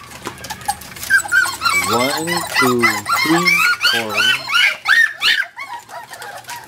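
Tiny one-month-old puppies whimper, yip and bark in a rapid, noisy cluster of high cries, close by, while a person counts aloud over them.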